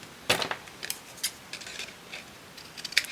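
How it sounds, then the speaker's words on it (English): Scissors snip through a piece of craft material in a few crisp, close cuts, with short rustles of handling between the snips and no talking. "Snip that off."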